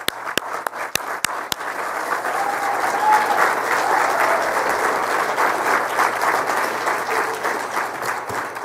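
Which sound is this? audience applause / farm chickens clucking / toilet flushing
audience applause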